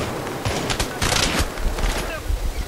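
Rapid gunfire from a rifle in Battlefield 3 multiplayer rattles in dense, loud bursts, with game ambience and a voice faintly underneath.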